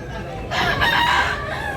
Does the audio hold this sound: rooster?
yes